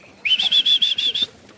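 Pigeons flap their wings in a quick burst of about seven rhythmic beats, close and fairly loud with a thin whistling tone over the flutter.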